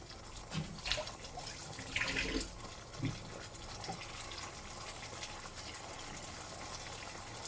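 Water poured into an emptied coconut oil container while cooking chicken, a soft close gurgling trickle with a few small splashes, fairly quiet and continuous.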